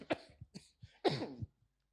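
A man coughs several times in quick succession, dry and close, ending with a short throat clear.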